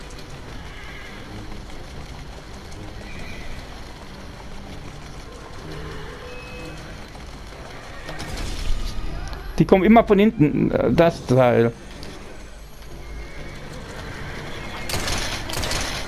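A horse whinnies shrilly for a moment amid background noise from the video game Assassin's Creed Syndicate, with someone talking over it before and after.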